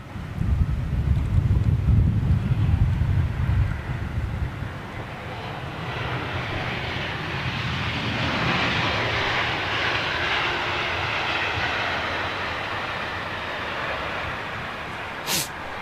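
Jet airliner taxiing at an airport, a steady, distant engine roar with broadband hiss and rumble, mixed with wind buffeting on the microphone and swelling slightly midway.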